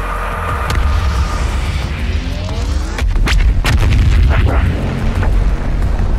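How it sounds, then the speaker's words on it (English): In DOOM Eternal, a spaceship's main cannon fires at Mars: a sustained heavy rumbling boom with sharp cracking blasts and debris-like crackles layered over a loud, dense low roar. "Firing main cannon."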